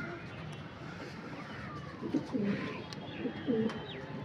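Pigeons coo and flutter close by, set against steady outdoor background noise, with a few brief bursts of soft wing and landing sounds in the last two seconds.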